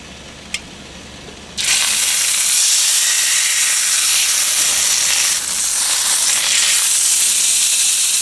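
Steaks laid into a hot pan give a sudden loud, steady sizzle and hiss that starts after a brief quiet moment and continues unbroken, close and dense, with no talking.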